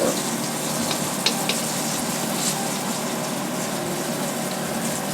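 Beef pieces frying for Mongolian beef, a steady dense sizzle with a few small pops, close and constant throughout, with no talking.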